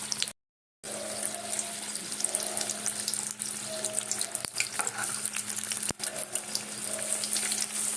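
Tap water runs continuously as hands are washed under it, a steady splashing rush with brief interruptions and small knocks, no speech.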